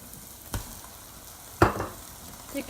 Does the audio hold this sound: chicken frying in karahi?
yes